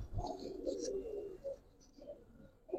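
Giribaz pigeons in a loft give a run of low, rolling coos, several close phrases in a row, faint and alone without talk.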